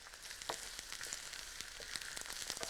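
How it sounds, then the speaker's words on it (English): Chopped carrots and celery sizzle in a pan, a constant hiss of frying broken by small pops and crackles, heard close up with no talking. "They're sizzling now."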